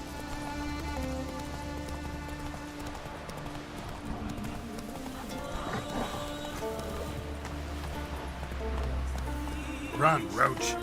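In The Witcher 3 on Switch, the horse Roach gallops, giving steady hoof clip-clops beneath a game soundtrack and spoken dialogue, with a brief louder flurry near the end.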